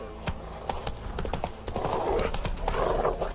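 Horse hooves gallop in The Witcher 3, a steady rapid clip-clop of a ridden horse heard close and fairly loud, with a brief neigh near the start over game ambience.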